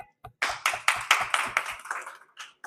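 A small audience at a Gupshup Corner community program claps for under three seconds, a sparse handful of hands beating in an uneven rhythm that thins out toward the end, with no talk over it.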